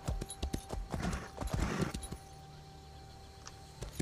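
Hooves of a horse mount clip-clop in Elder Scrolls Online, a quick run of sharp, close hoofbeats with faint jingling that stops halfway, leaving a quiet steady hum.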